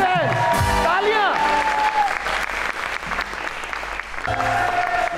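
Studio audience of a Pakistani TV talk show breaks into sustained applause, loud and steady clapping running throughout, with musical stings and a host's voice layered over it at the start and near the end.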